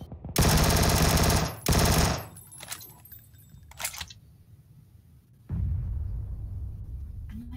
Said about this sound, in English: I'm gonna shoot a few, so we'll push.